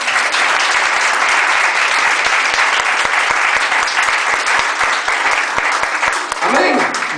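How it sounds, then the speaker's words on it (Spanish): A church congregation claps in praise during a sermon, a loud, close, sustained burst of dense applause with sharp individual claps, which fades toward the end as a voice begins speaking. "Den un aplauso al Señor."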